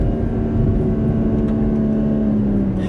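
A 2021 BMW X4M sports SUV engine drones steadily at close range as it shifts with paddles on a narrow two-lane road, a continuous loud hum with no talking.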